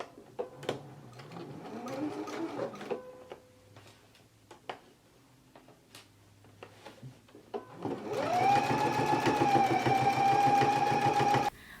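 A home sewing machine stitches a curved skirt pocket, first in short ticking bursts with pauses as the needle is set down, then a steady loud whirring run of rapid stitches.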